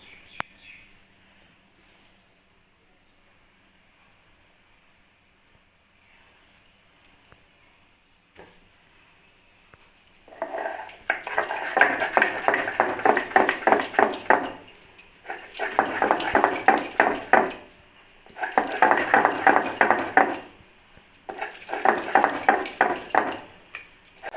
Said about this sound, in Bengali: শোলা কচুর গোড়াটা আমি এখন শিলনোড়াতে এটাকে ভালো করে বেটে নেবো